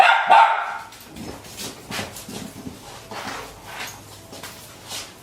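A dog barks in loud bursts at the start, then keeps up fainter, intermittent barks and yips in the background while a trainer works to stop its excessive barking.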